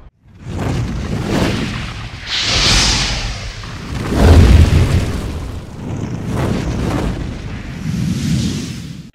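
Heavy starship guns firing in the space strategy game Battlefleet Gothic Armada, with a string of loud booming blasts and whooshing salvos that rise and fall over several seconds, no voices.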